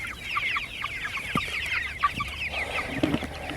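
A group of four-week-old broiler chickens cluck and chatter steadily, with overlapping short calls and a few sharper squawks, close by and moderately loud.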